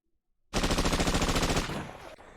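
A loud, sustained burst of rapid automatic gunfire in a Cyberpunk RED game that starts abruptly and runs for about a second and a half before trailing off.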